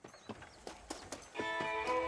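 A horse in the Western game Red Dead Redemption on PC gives a quick run of clip-clopping hoofbeats. A sustained tonal game sound then swells in underneath the last few steps.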